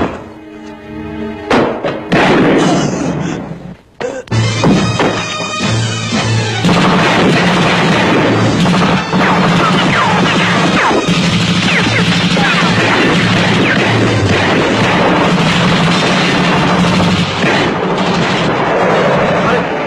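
Gunfire booms in heavy, thudding bursts, loud and close, then continues as a dense, rumbling barrage, with voices mixed in underneath.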